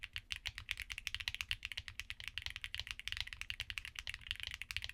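Typing on Akko Crystal mechanical keyboard switches: rapid, quiet, even keystrokes clatter in a steady stream of bright clicks, close and alone.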